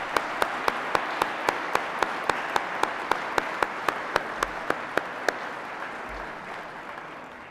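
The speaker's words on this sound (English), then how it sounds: "if we could just have one more round of applause for all of the award winners." Dinner guests at an annual chamber of commerce awards dinner applaud the award winners, with a steady wash of clapping and one sharp, evenly paced clapper standing out before fading.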